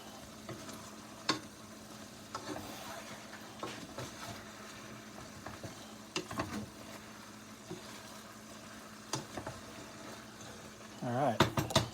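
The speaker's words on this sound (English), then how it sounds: "Just keep on stirring." Pork and chicken adobo stirred in a pan, with repeated spoon scrapes and clinks against the metal over a low simmering sizzle, a soft voice murmuring now and then and a louder clatter at the end.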